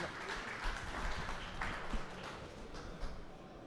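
Applause from an audience at an award ceremony for an innovation competition, a fairly faint, uneven patter of clapping with a few louder individual claps standing out.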